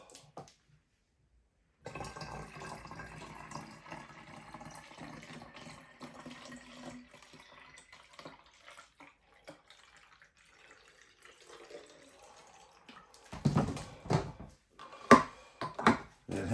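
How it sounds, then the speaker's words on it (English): Tap water runs steadily into a spray bottle for several seconds, then trails off, followed by a few louder clunks and handling knocks near the end. "Fill our spray bottle."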